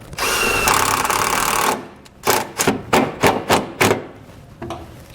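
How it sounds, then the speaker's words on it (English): A power drill drives a self-tapping screw during a trailer tail light wiring install, first with a steady whine, then with a string of short, sharp driving bursts, close up and with no talk. "you can run the self-tapping screw in first and then pull it back out"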